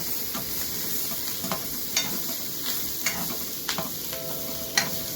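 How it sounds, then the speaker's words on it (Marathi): Spring onions sizzling in a little oil in a pan as they are stirred, a steady soft frying hiss broken by repeated light scraping taps of the spoon, no voices. "कांद्या पात्याला हलवून घ्यायचं चांगलं"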